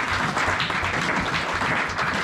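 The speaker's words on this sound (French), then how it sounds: "Acclamez très très fort Jésus." A church congregation claps loudly for Jesus, a dense steady wash of applause with mixed cheering that fills the whole moment without pause.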